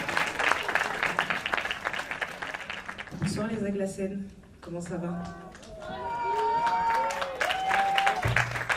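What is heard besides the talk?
concert audience applause for band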